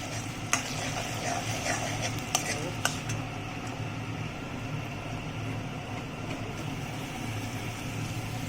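Garlic and ginger frying in oil in a pan make a steady, broad sizzle that runs throughout, with a few sharp clinks of utensil against the pan near the start.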